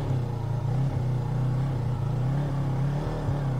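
A motorcycle creeps along at walking pace under gentle throttle and careful clutch control, its low engine hum steady and moderately loud with small surges in pitch.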